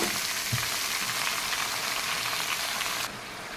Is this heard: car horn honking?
no